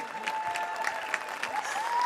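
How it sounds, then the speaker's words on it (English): A crowd applauds the Ferrari Challenge UK Coppa Shell champion at Silverstone. The steady clapping is moderately distant and continues under a voice over the public address. "A final round of applause for our Coppa Shell"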